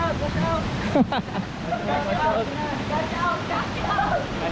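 Water rushes steadily along a small mountain stream on an outdoor trek, a continuous broadband wash running throughout, with brief voices and a short sharp sound near the one-second mark.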